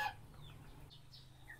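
A breeding rooster lets out a few short clucking calls over steady background noise, with no talking.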